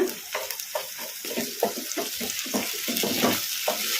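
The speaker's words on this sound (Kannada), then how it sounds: "ಈಗ ಇವನ್ನ ಉಳ್ಳಾಗಡ್ಡಿಗೆ ಹಾಕಿ ಫ್ರೈ ಮಾಡ್ಕೊಂಬಿಡೋಣ ಕಲಿಸ್ಕೊಂಡ್ಬಿಡೋಣ" Soya chunks fry with chopped onions in a pan, a low sizzle under quick, rhythmic scraping strokes as a spoon keeps stirring and mixing them, close and steady.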